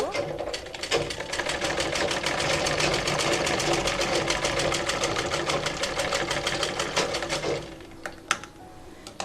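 A sewing machine stitches a cloth face mask in one long steady run of rapid needle clatter, close and even, slowing and stopping near the end with a few scattered clicks.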